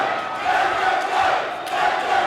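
A crowd at a fight shouts and roars continuously in a dense, loud wall of voices with no individual words standing out.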